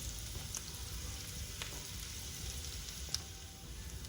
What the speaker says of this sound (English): So now I'm going to saute half a cup of white onion